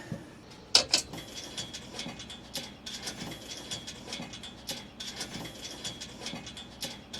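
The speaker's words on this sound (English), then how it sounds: "we're just doing screw, washer, putting it in the hole, and then washer and nut on the other side" Screws, washers and nuts being fastened while a JSPORT roof rack is fitted to a Honda Ridgeline, a run of quiet, close ratcheting clicks and small metallic taps with a couple of sharper clinks near the start.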